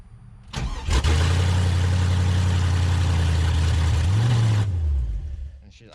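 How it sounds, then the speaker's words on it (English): A car engine cranks and catches, then runs at a steady, fast idle that swells briefly in pitch near the end before cutting off abruptly; loud and close, with no talking. "she's idling really high"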